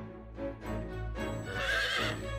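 A horse in the video game Fire Emblem Warriors: Three Hopes lets out a loud, close whinny that rises and trembles over a low steady game hum, with no talking.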